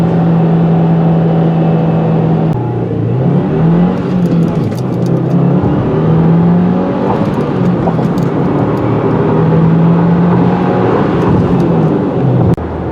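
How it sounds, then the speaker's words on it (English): A 2022 Subaru WRX with a six-speed manual revs hard and pulls through the gears, its pitch climbing again and again, loud and close, with no talking. "This engine keeps pulling and pulling, a fantastic motor."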